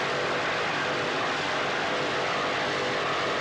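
Offshore racing powerboat at a 1986 regatta, its engine held at steady high revs with the throttle down: a dense, continuous roar that fills the whole clip without letup, loud and close.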